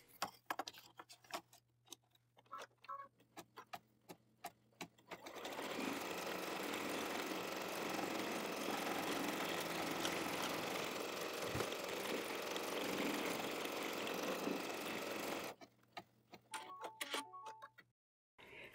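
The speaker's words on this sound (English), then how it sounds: "we're ready to sew the next color" An embroidery machine stitching an in-the-hoop mini stocking runs for about ten seconds as a loud, steady mechanical whir, framed by quieter ticks and clicks before and after.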